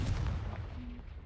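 A Confringo blasting spell from Hogwarts Legacy goes off as a single sharp explosive bang with a deep low thump, decaying quickly over about a second.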